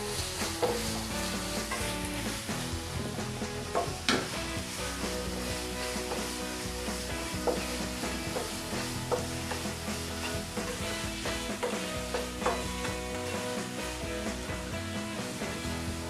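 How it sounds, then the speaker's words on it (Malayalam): Chopped onion sizzles and fries steadily in a hot pan for paneer bhurji, alongside ginger and garlic, a continuous close crackling with occasional stirring scrapes and no talking. "ഇത് ചോപ്പ് ചെയ്ത് വെച്ചിരിക്കുന്ന സവോള ഇട്ട് കൊടുക്കുക."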